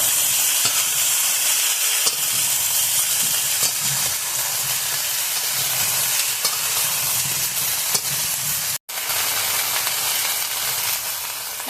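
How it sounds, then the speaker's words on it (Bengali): Two eggplants cut into thick slices fry in hot oil with a loud, continuous sizzle and hiss, with faint stirring ticks and a momentary break near the end. "এখন বেগুনগুলো ভেজে নেব।"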